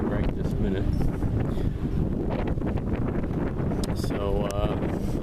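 Strong wind at a waterfront on Labor Day buffets the microphone in a constant loud rumble, with flags flapping in the gusts and a voice speaking briefly in the background.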